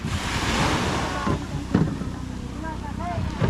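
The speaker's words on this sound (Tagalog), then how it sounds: "Ayan na! Ayan na! Alon!" Ocean waves break and surge in a continuous rush with gusty wind noise, while people shout and talk over the roar.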